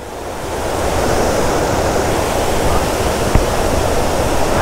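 A river rushes and sprays water far below a high suspension bridge between Beni and Kushma in Nepal, a loud, continuous broadband roar with no pauses, heard up close and steady throughout.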